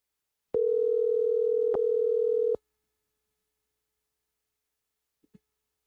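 A steady telephone dial tone sounds for about two seconds while calling into a live podcast, then cuts off into silence before a couple of faint clicks.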